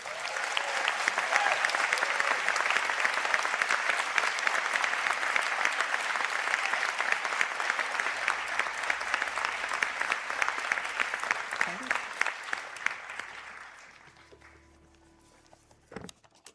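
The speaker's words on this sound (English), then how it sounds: "stand for a round of applause" A seated crowd at a college conferring ceremony gives a long round of applause for the graduates, many hands clapping steadily before the sound thins and fades out into a quiet hall with a few stray thumps.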